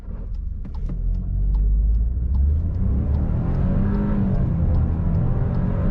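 Facelifted 2021 Seat Arona with a three-cylinder engine accelerating hard in sport mode, a loud close rising engine drone with a gritty thrum that builds steadily, heard from inside the cabin.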